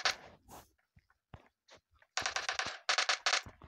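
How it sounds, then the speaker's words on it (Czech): Gunfire in PUBG, a few scattered distant shots followed by bursts of rapid automatic fire, sharp and clipped with short pauses between volleys and no talking over it. "ale někdo tady střílí."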